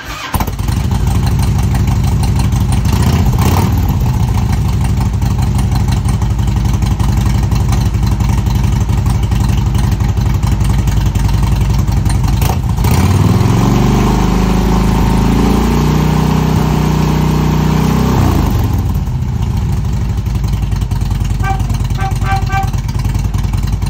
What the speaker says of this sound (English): Just going to turn it on.